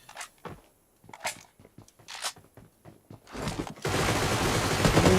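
Gunfire in a PUBG team deathmatch tournament, with scattered single shots and short bursts early on, then a dense sustained volley of automatic fire dominating the last second and a half.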